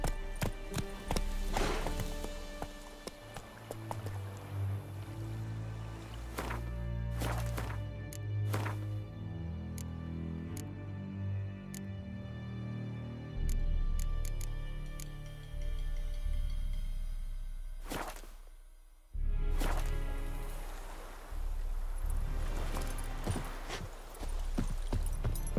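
Roach, a horse in The Witcher 3, galloping with steady rhythmic hoofbeats close by, continuous and loud over a backdrop of game music, with occasional sharper thumps and a brief pause before the gallop resumes.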